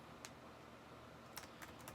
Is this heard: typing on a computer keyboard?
yes